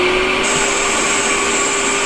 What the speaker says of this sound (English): We're going to use the seeder, and so it's going to get noisy